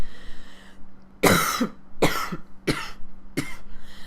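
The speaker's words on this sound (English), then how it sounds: "I had to cough." One person coughs four times in quick succession, close and loud, each burst sharp and breathy with short pauses between, over a faint steady background hum.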